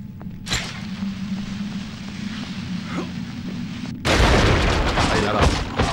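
An explosion goes off in Baldur's Gate Dark Alliance on PS2, an abrupt loud burst that sets off a sustained roaring rumble after a quieter stretch of game ambience with faint thuds, and someone talks in Spanish.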